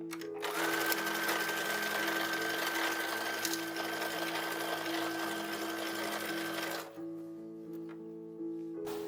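A sewing machine stitches the shoulder seams of a 1930s–1940s style toddler dress, running steadily and close for about seven seconds, then stopping briefly and starting again more faintly, with no talking.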